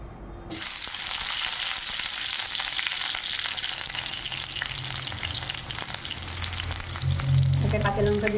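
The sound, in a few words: onions frying in hot oil in a wok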